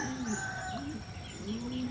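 Racing pigeons coo softly in repeated low, rolling calls, faint and close amid a quiet loft background.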